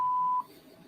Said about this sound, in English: That sounded like a smoke alarm.